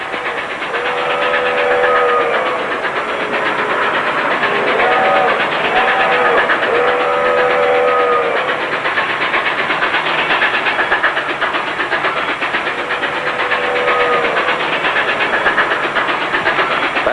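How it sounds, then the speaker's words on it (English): Steam locomotive rolling along with a continuous hiss and rumble, several drawn-out whistle blasts rising over the noise near the start and again later, loud and close. "a locomotive is the biggest thing that moves on land. When it roars along at 70 miles an hour"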